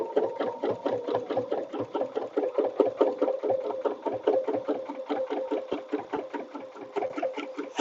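Close, steady rhythmic chatter of a sewing machine stitching an edge-to-edge quilting line, running without pause for several seconds.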